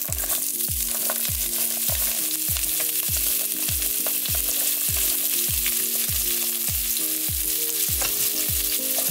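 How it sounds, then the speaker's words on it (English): Carrots stir-fried in hot oil in a wok for a Chinese shredded pork dish, a steady loud sizzle broken by regular rhythmic scrapes and clanks of the spatula, close up with no talking. "we're gonna stir fry the carrots."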